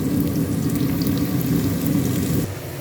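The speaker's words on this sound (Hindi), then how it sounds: "मेरी प्याज चूल्हे को मैं फुल आंच पे कर दिया है ताकि प्याज जल्दी लाल हो जाए" Chopped onions frying in oil in a pan on full heat, giving a steady, loud, close sizzle that drops abruptly near the end, with no talk.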